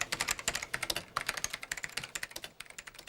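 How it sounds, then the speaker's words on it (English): Fast, steady typing on a keyboard in an office as a job specification is written, a rapid run of light, quiet keystroke clicks with no speech. "typing out the job specification for a support service manager"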